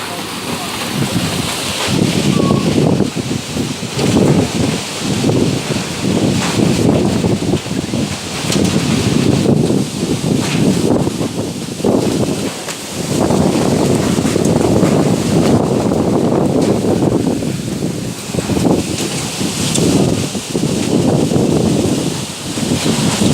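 Strong wind blows at a beach, heard from indoors through a boarding-house window as a loud, continuous roar with gusty surges and buffeting for over twenty seconds.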